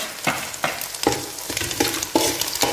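Tomato with chili powder and garam masala fries in a pan for egg veg noodles, a steady sizzle broken by several rhythmic scraping stirs, close and fairly loud, with no talking.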